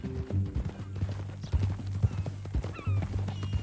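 Horse hooves clip-clop steadily at close range in Red Dead Redemption 2, a walking gait with irregular thumps over a low musical bed.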